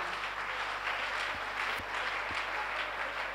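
A church congregation applauds during a French-language worship service, a steady, dense wash of clapping from a large crowd with no one speaking over it.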